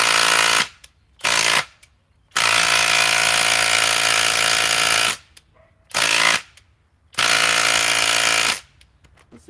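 A Cobalt power tool hammers on a fastener that will not budge, firing in four loud, rapid, rattling bursts of varying length with short silent gaps between them.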